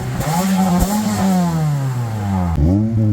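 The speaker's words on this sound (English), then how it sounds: "I'll do a before and after of the exhaust" A car engine revving through a newly fitted exhaust on a Toyota Matrix project car, loud and close, with rising and falling revs and a quick blip near the end.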